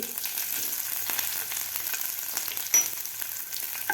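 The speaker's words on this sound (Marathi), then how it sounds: "हिरवी मिरचीसुद्धा आपल्याला व्यवस्थित फ्राय करून घ्यायची आहे" Green chillies sizzle in hot oil with popped cumin and mustard seeds for a Ganpati prasad dal, a steady close crackling fry with one brief sharper spatter near the end, no voices.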